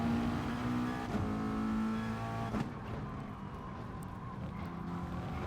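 A McLaren race car in Gran Turismo Sport howls around the Spa circuit, its engine holding a steady, loud, droning pitch that dips slightly as it shifts.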